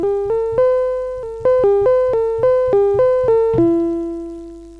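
Chord stab patch on an Elektron Analog Rytm drum machine played chromatically in chromatic mode: a dozen short, bright synth chords stepping up and down in pitch with quick decays, the last chord ringing out longer, with no talk.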